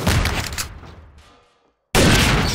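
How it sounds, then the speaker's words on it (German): Loud bursts of gunfire in the multiplayer shooter Trouble in Terrorist Town, with shots aimed at burning barrels; a dense volley fades out, a moment of silence follows, then another loud burst cuts in. "Aber Schüsse fallen."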